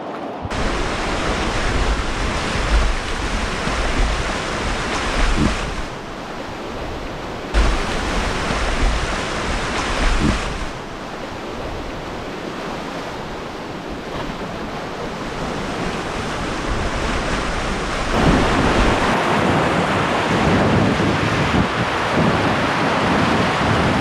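Class 2 whitewater rapids at Skeleton Creek on the Lower Salmon River, with waves at the bottom. The water gives a loud, continuous broadband rush that shifts and churns, with a few brief dips in the roar.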